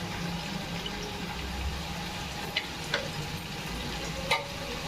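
Oil goes into a pot holding cardamom pods, cloves and shahi jeera while cooking prawn and egg biryani, giving a steady, dense sizzle and bubbling hiss with a few sharp clinks, and no talking.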